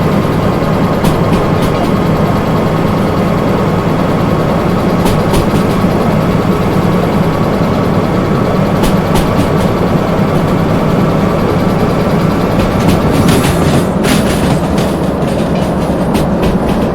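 A locomotive train runs steadily on rails in Derail Valley, with a loud, continuous low engine rumble and rolling wheel noise, plus occasional clickety-clack of wheels over rail joints.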